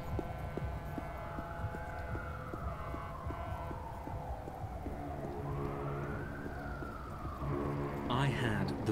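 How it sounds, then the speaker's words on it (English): A wailing siren in the Dreamfall Chapters video game, rising and falling in long slow sweeps over a faint rhythmic background pulse, moderately distant, with a brief burst of other game sound at the end. "I hear sirens."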